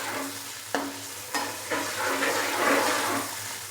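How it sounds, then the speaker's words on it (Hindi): About half a cup of water hits hot frying onions in a pot with a rush of steaming hiss, followed by a few sharp utensil knocks and stirring scrapes over continued sizzle. "प्याज को अच्छे से फ्राई करने के बाद अभी मैं इसके अंदर थोड़ा सा पानी डालूंगा"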